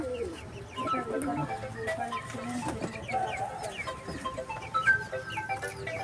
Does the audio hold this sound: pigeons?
yes